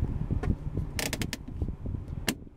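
Quiet mechanical clicks and a quick ratcheting creak as the emergency brake lever is pulled up inside a 2014 Hyundai Genesis Coupe 2.0T, with faint low rumble underneath.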